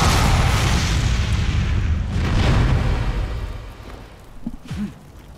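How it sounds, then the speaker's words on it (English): A giant fireball attack explodes in Hyrule Warriors, a loud booming blast with a roaring rush that fades out over a few seconds, followed by a couple of small trailing effects. "now he's going to charge up and basically become a Sasuke and shoot you with a giant fireball"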